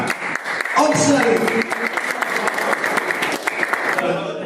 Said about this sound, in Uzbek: Olqishlar.